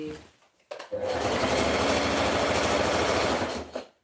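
Sewing machine stitching fabric for a dress, running in one loud, steady burst of rapid needle strokes for about three seconds after a brief start, then stopping.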